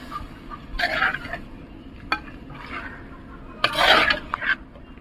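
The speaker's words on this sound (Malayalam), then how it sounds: "നമുക്കൊന്ന് നന്നായി ഇളക്കി കൊടുക്കാം." Spiced jackfruit stirred in a pan with a spoon, giving a few short scraping, rustling strokes over a low steady background, close and moderate.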